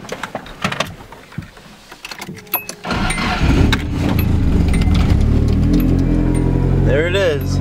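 A Nissan S14 engine cranking and catching after a fuel pump primes, with clicks and brief whirs before a loud rumbling start that settles into a steady idle, with a voice talking nearby.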